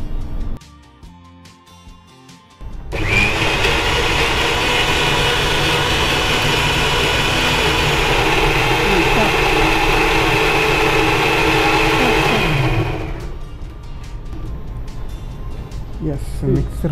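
A mixer grinder runs loud and steady for about ten seconds, grinding masala with water into a fine paste in a kitchen, then cuts off into quieter room noise.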